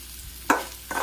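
Vermicelli (semiya) is stirred and fried in a pan for upma, giving two short scraping, sizzling bursts about half a second apart over a quiet background.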